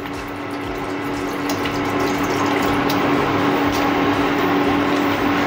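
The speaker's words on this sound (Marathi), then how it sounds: "यामध्ये आपल्याला या स्टँडच्या थोडं लेवलने पाणी टाकून घ्यायचं आहे।" Water pours steadily into a steamer pot fitted with a stand for dhokla, making a continuous, fairly loud rushing fill with a faint underlying hum and no speech.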